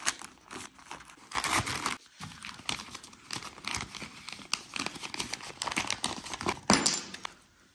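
Stiff plastic packaging crinkling and tearing as a package is opened, with continuous rustling, crackling bursts and sharp rips at close range, no talk over it.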